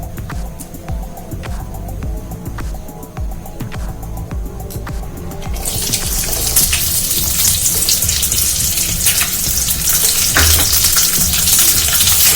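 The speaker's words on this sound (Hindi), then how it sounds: "हमारा ऑयल गरम है और अब हम इसके अंदर डालेंगे प्याज।" Chopped onion dropped into hot oil, a soft hiss for the first few seconds that jumps to a loud, steady, bright sizzle and crackle continuing to the end with no speech.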